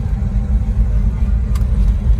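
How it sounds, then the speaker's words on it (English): A 1969 Plymouth Road Runner's exhaust rumbles low and steady from inside the cabin, a deep throbbing drone with slight swells, loud and continuous. "Exhaust sounds pretty good."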